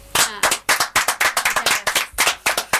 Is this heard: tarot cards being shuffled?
no